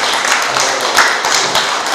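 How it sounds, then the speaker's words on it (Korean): Applause from a farm cooperative education meeting audience in Icheon, honoring a guest, as a steady dense wash of many hands clapping throughout, fairly loud and close. "큰 박수 한번 치시오"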